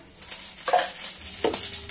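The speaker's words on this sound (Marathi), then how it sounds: "आता आपलं तेल तापलेलं आहे कढईमध्ये, त्यात आपण फोडणी तयार करूया।" Cumin seeds crackle softly in hot oil in a kadhai as the tempering for a Maharashtrian brinjal bhaji begins, with a couple of brief stirring scrapes over a steady low sizzle.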